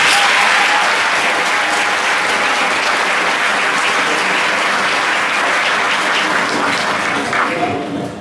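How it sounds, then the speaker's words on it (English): A crowd at a school move-up ceremony for sixth and seventh graders applauds loudly and steadily, a dense roar of clapping that tapers off at the very end. "So can you please give her a big round of applause?"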